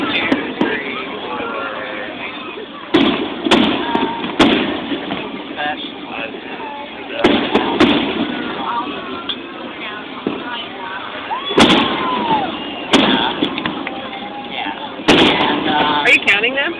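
Fireworks display in Melbourne, Florida, with loud booming bursts at irregular intervals, several sharp cracks standing out, heard over continuous crowd chatter and talking nearby.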